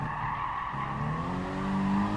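A race car in the GT Sport racing game brakes hard in a beginner Sunday Cup race, tires squealing in long rising and falling tones over the engine drone, with no voices.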